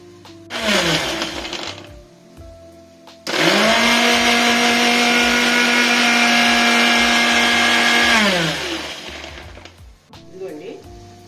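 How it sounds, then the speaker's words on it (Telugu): A kitchen mixie grinder blends cut tomatoes into juice: one short loud pulse, a pause, then a long continuous high-pitched motor whine that winds down at the end. "దీన్ని మిక్సీ వేసేస్తానండి"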